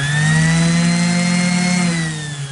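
Loud, steady whirring hum of a rotary tool burnishing stencilled metal resin with 500 grit abrasive, holding an even pitch before easing slightly at the end.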